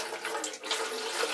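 Water pours steadily into a tub, a continuous broadband splashing rush that holds fairly level and close throughout, with no talking.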